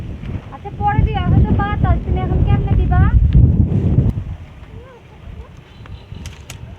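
Strong wind buffets the microphone in a low rumbling roar while people speak over it, then the gusts ease into quieter background air.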